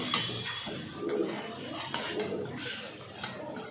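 Rice frying in a pan for a pulao, with scraping and clinking of a utensil against the pan in several bursts, close by.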